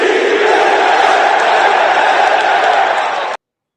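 Loud, dense crowd roar of cheering and applause, a sustained wall of voices and clapping played as a sound effect that cuts off abruptly near the end.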